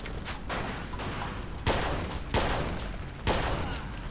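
Gunfire in the video game Mafia 2, with dense continuous shooting punctuated by three heavier loud bursts spaced about a second apart, no voices over it.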